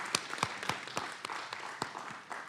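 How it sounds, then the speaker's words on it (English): At a Fulton County Board of Commissioners meeting, a small audience applauds. It is thin, sparse clapping with distinct individual claps standing out at irregular intervals, fairly quiet overall. "Let's give them a big round of applause"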